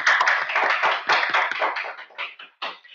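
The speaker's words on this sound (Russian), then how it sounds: "Эти аплодисменты вам." Audience applause at the opening ceremony of a regional Abilimpics championship, a short burst of close, sharp claps that thins out and fades, then a last few scattered claps.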